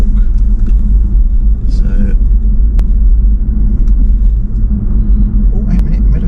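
A car cruises slowly around a shopping centre hunting for a parking space, its low engine and road rumble droning steadily inside the cabin while people talk over it.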